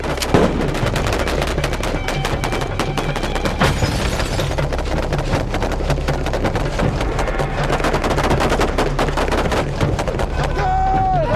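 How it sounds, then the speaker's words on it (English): Sustained rapid automatic gunfire as more than 300 rounds pour into a car in under ten seconds during an Israeli YAMAS police unit drill, a loud dense crackle of overlapping shots running nearly nonstop with a short sharp tone near the end. "Over 300 rounds of ammunition are laid into the car in less than 10 seconds"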